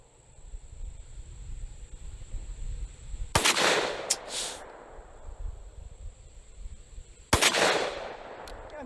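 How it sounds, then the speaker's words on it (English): Two sharp, loud gunshots at outdoor targets ring out several seconds apart, each cracking suddenly and trailing off in a hissing echo over a low background rumble. "I'm shooting a little high."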